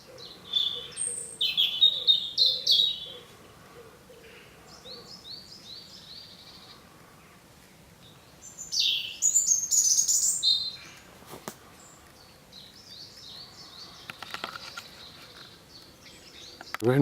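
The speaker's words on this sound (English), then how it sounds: "Hear the bird song." Wild birds sing in oak and holly woodland on the South Downs, with bright chirping phrases in several separated bursts and quiet stretches between.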